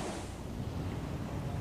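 Storm-surge waves and currents pounding a coastline make a steady, loud, broadband roar with wind noise, continuous throughout, no voices.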